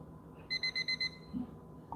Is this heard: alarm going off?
yes